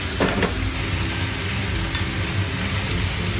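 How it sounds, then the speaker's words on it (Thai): Udon with cabbage, bean sprouts, carrot and tuna stir-fries in a pan, giving a loud, steady sizzle with brief scraping stirs near the start, close by and without talk. "ค่อยๆผัดส่วนผสมให้เข้ากันเลย"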